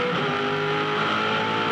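A 2005 Supercars Championship race car at the Perth 400 drives out of turn 6, sliding slightly sideways. Its engine drones loudly and steadily with a strong, continuous tone throughout.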